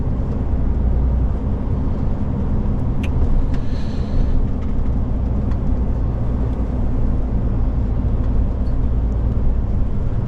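Steady road traffic rumble heard from inside a moving vehicle, with low engine and tyre drone filling the cabin evenly and a few faint higher tones passing midway.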